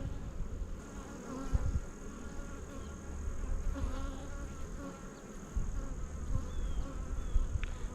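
Honeybees hum in an open hive, a dense continuous buzzing swarm close at hand with fluctuating loudness and occasional individual bees passing nearer.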